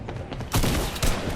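Gunfire in a video game, dense and loud bursts of crackling shots close by, with a heavier surge midway and no talking over it.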